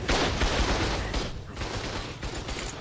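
Gunfire in the video game ARK, a dense, continuous fusillade of rapid shots lasting throughout, fairly loud and steady with no clear pauses.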